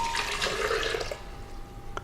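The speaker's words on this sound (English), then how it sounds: "we're going to add the spring water" Spring water pours into a blender jar in a kitchen, a steady close splashing rush that runs under two seconds and tapers off near the end.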